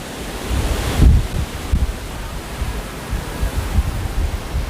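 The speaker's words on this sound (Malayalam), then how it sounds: "അത്രയ്ക്ക് കാറ്റാണ് നല്ല കാറ്റടിക്കുന്നുണ്ട്" Strong wind blows steadily through a park beside clear water, a constant rushing roar buffeting the microphone with a heavier gust near the start.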